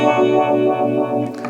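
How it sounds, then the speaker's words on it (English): An electric guitar plays through a NUX Cerberus multi-effects pedal on a clean patch with light reverb, a sustained chord ringing loud and smooth, then fading as a brief new attack begins near the end. "Basically it's clean, a little bit of reverb."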